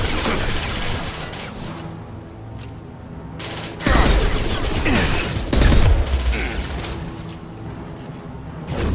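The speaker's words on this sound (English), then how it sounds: "try the Inferno ammo on this thing. Yeah, see, that sets them all on fire" Inferno ammo gunfire in Mass Effect 2, dense bursts of weapon fire with heavy impacts and crashing booms over a busy game soundscape, two louder surges standing out near the middle and later.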